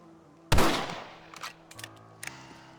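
A rifle fires in the Western video game Red Dead Redemption: a single sharp, loud shot with a ringing decay, followed by a few faint clicks and small knocks.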